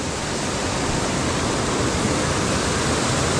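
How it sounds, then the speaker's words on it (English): A raging mountain brook beside a hiking trail on Bromley Mountain, Vermont, roars in a steady, loud, broadband wash of rushing water that holds constant throughout with no voices. "can hear a raging brook again"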